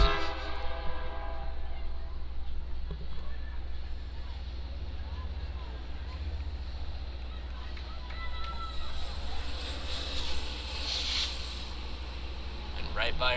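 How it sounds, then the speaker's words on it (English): Train rolling past right beside a soccer stadium during a women's match, a steady low rumble under continuous play-by-play commentary, with a brief horn-like tone rising near the end. "As now the train passes by."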